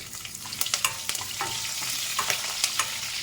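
Green chillies fry in hot oil with cumin, mustard seeds and curry leaves, a steady close sizzle with light stirring clicks and small pops scattered throughout.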